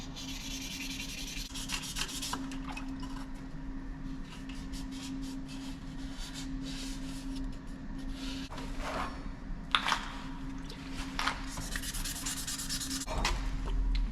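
A Damascus steel Bowie knife blade is hand sanded with 600 grit sandpaper, making continuous close rubbing strokes in an uneven rhythm, with a few sharper scrapes near the end.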